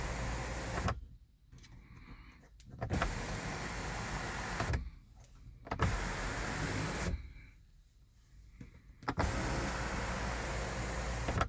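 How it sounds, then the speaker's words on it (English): Electric sunshade in a Kia Sportage sliding, heard as a motor hum that starts and stops in several separate bursts with quiet gaps between them, close by inside the cabin. "To stop the sliding at any point, press the sunshade control switch momentarily."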